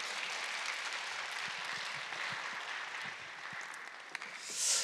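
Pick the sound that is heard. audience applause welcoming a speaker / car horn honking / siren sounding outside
audience applause welcoming a speaker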